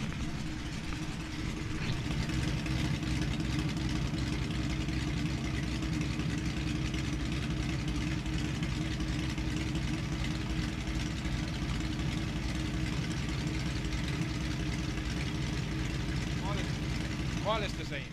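A carbureted Lamborghini V12 engine idles steadily and continuously, a dense low rumble with no pauses, while someone talks over it during carburetor tuning.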